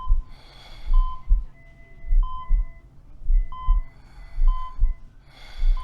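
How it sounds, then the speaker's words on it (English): Heart rate monitor in the horror game Port of Call beeping at a steady, evenly spaced pace, mixed with heavy rhythmic breathing and low heartbeat thumps, close and fairly loud. "It's a heart rate monitor."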